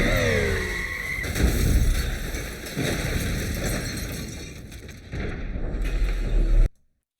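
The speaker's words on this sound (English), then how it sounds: "There's just the amount of time it's taking for that explosion of the SUV to finish." An SUV explosion in a film scene erupts as a dense, crackling roar with debris and rumbling layers, surging again midway and sustaining before cutting off abruptly into silence.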